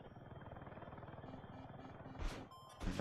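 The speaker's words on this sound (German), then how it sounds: "ich habe einen Helikopter." A helicopter in the video game Battlefield 6 gives a rhythmic, pulsing rotor throb that holds steady, with two short, bright bursts of noise breaking in near the end.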